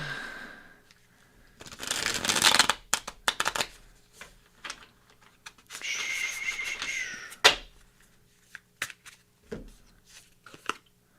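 Tarot cards shuffled by hand at close range, with a riffle-like burst, a longer smooth shuffle, and scattered soft taps and snaps of cards between them.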